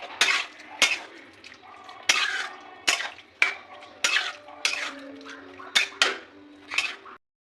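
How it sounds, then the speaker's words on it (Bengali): Chicken being mixed with yogurt in a metal bowl, a spoon scraping and clinking against the sides in about a dozen short, separate strokes, close and fairly quiet. "এবার একটু দই দিয়ে মাংসটা ভালো করে ম্যারিনেট করা"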